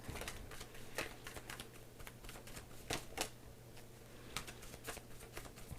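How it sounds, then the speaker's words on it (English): Rapid clicking and riffling of a deck of thin cards being shuffled, a series of sharp crisp bursts over a low steady hum, fairly quiet and close. "So the point is, it's hard to shuffle this deck."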